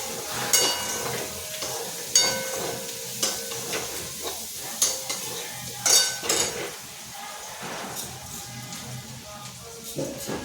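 Urad dal and green chillies sizzle in hot oil for a tempering, with a steady crackle and intermittent clinks of a spoon stirring against the pan, close and moderately loud.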